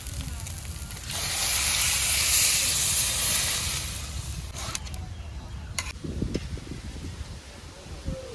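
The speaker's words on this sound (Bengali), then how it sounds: "চালটা টালা হয়ে গেছে, এখন আমি একটু জুস দিয়ে দিই।" Juice poured into a hot pan of fried rice bursts into a loud, bright hiss that swells and then fades to a softer sizzle, followed by a few light clinks and stirring sounds.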